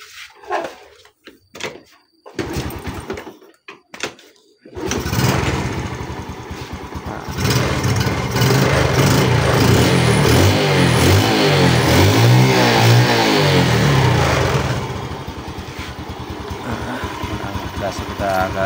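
A Yamaha Jupiter Z motorcycle with a freshly serviced carburetor cranks with a few short bursts, then fires up and runs close by. The engine rises into a louder, rougher idle with slight revving, and brief speech is heard early on.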